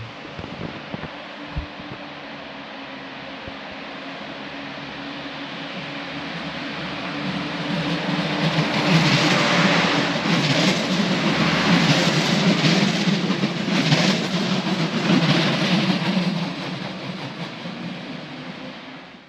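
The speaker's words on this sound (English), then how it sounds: "there's a regional train leaving here" A regional train pulls out of Aachen station, a steady broadband rumble and rush that swells in the middle and then eases, heard from the platform with no talk.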